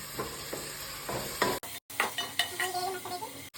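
A ground paste of chili, coriander, ginger and garlic fries in a pan for chicken curry, loud scraping stirs and sizzling bursts in an uneven rhythm, briefly cut off partway.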